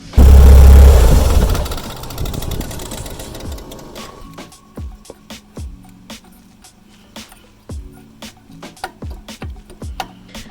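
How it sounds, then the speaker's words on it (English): Loose turbo with a detached wheel rattling on a Mitsubishi Evolution 8, opening with a loud roar that fades into an irregular metallic clatter of sharp, close knocks and buzzing. "The wheel I just don't think is even attached to anything anymore, and this is just rattling around."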